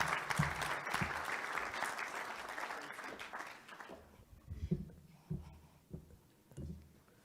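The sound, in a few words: audience applause at a business forum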